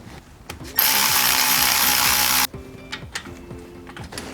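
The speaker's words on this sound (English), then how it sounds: "Install our 3 hub retaining bolts." Hub retaining bolts being driven on a Jeep Wrangler Dana 30 axle: a loud, sustained power-tool whir for about two seconds, framed by quick ratcheting clicks and metallic handling before and after.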